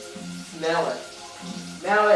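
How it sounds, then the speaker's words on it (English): Faint steady sizzle of onions and bacon frying in a pot beneath a voice speaking twice, close and conversational. "You'll probably hear all of that sizzling and all that good cooking that we're doing here."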